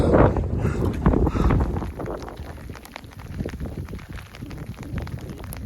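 Gusty wind on a wet, cold Austrian Alps peak buffets the microphone in loud, rough bursts, a continuous roaring rush with no voices.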